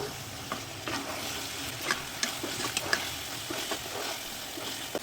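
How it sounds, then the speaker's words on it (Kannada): A ground green masala for a crab dish, mixed with turmeric and a little salt, sizzles in a pan, a continuous frying hiss broken by light scrapes and stirs, with no talking. "ಫ್ರೈ ಮಾಡ್ಕೊಳ್ಳೋಣ."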